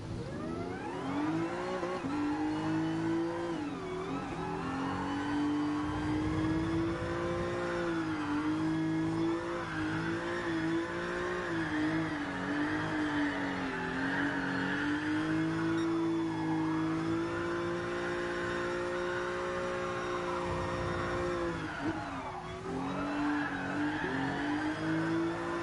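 Racing-game car drifting around Suzuka in GT Sport, engine held at high revs with a steady loud drone that rises and dips as the throttle is feathered, tyres scrubbing and skidding underneath throughout, no talk.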